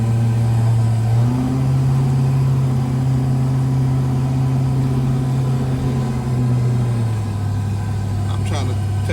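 An LS-swapped G-body car with a cammed engine and full exhaust drones steadily on a first test drive, its engine note rising in pitch after about a second and easing back down near the end, loud and continuous throughout.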